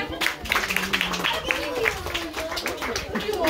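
Short burst of clapping from a small group at a Mother's Day celebration in a village school in Joyabaj, honoring a mother, irregular hand claps close by with voices talking over them.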